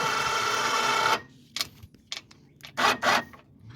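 A Badland 2500 lb winch mounted on a mower reels its line back in: a steady mechanical whirring for about a second, then it cuts off, followed by a few short clicks and rattles.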